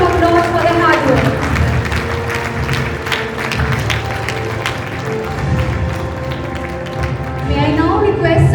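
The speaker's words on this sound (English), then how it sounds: "a huge round of applause for their hard work" Applause for achievers fills a ceremony hall, a dense, steady patter of many hands clapping throughout, mixed with crowd murmur and some talk over it.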